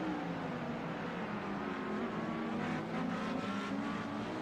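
A steady race car engine in a Le Mans racing video game drones at a constant pitch, whining with faint shifting tones throughout, moderately loud with no speech.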